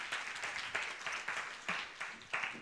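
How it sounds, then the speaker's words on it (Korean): A congregation claps at a high school Sunday worship service, rhythmic group applause with regular strong beats, fairly soft and distant-sounding in a large room. "박수 한번 부탁드려요"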